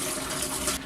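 Rinse water poured out of a home brew jug, a brief continuous gushing splash that cuts off near the end.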